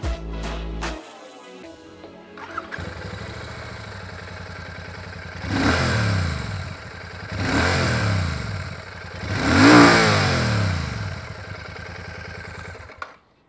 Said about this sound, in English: we want you to hear the exhaust sound of the bike.